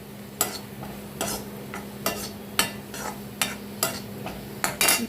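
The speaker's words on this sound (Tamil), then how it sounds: "அடுப்பு ஆஃப் பண்ணிட்டு கொஞ்சம் கைவிடாமல் கலரிக்கிட்டே இருங்க, இல்லைன்னா கருகிடும்" Carrot chutney is stirred in a pan after the stove is switched off, with about eight evenly spaced scraping strokes over a faint lingering sizzle, close and clear with no talk.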